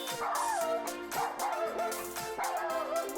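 A cartoon puppy in the Toca Life World video game yips and whimpers in three short, bright bursts, each rising then falling in pitch, loud and close against a steady backing of game music.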